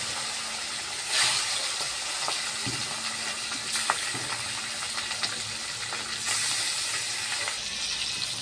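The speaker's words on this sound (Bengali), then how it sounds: "বাকি মাছগুলো আমি ভেজে নেব।" Pieces of Ganges chital fish fry in hot oil in a pan, giving a steady, close, loud sizzle and crackle throughout with a few brief spits and flares, without any talking.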